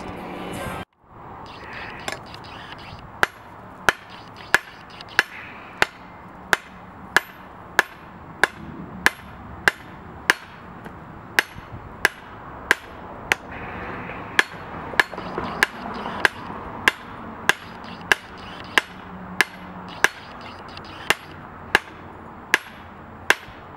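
Hammer striking hot metal on an anvil while forging a tool from a zinc-coated bolt, sharp ringing blows repeating at a steady pace of roughly one per second over the constant roar of the forge fire, close and alone.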